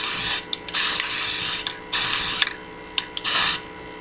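Paint from a spray can hisses in bursts onto a plaster-coated homemade device, with four long close sprays separated by short pauses and a few brief puffs between them.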